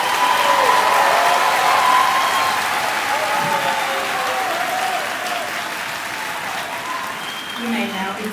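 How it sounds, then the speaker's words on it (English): A graduation crowd in a high school ceremony applauds for seated students, dense clapping that starts loud and gradually thins, with faint voices and a few whistles or calls rising near the end. "Please give these students a round of applause."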